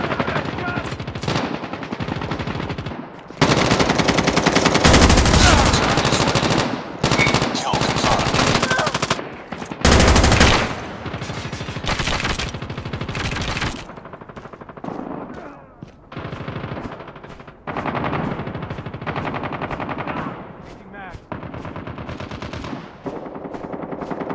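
Rapid automatic gunfire from the Call of Duty: Mobile game on the Nuketown map, loud and close, in long sustained bursts broken by short pauses, with in-game voice callouts now and then.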